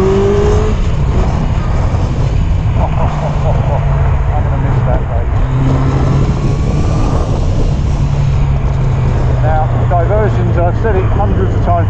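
A Yamaha XJ900 Diversion motorcycle with a big exhaust drones steadily while riding, its engine fairly quiet, with constant wind and road roar, loud and close, as someone talks over it.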